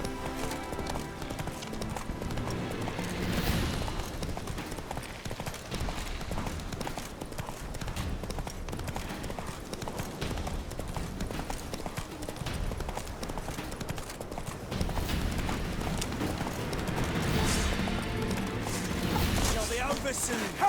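Horse hooves clip-clop steadily at a trot across the ground in The Witcher 3 video game, a continuous rhythmic clatter heard close and fairly loud throughout.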